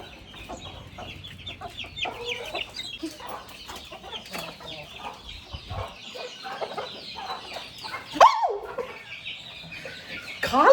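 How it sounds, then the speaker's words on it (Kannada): Several chickens cluck and squawk nearby in a busy, irregular chatter, with one sharper squawk toward the end. "ಕೋಳಿಗಳು ಎಲ್ಲೆಲ್ಲಿ ನೋಡಿದ್ರು ಪಿಕ್ಕ ಮಾಡಿ ಬಾಯ್ತವೆ"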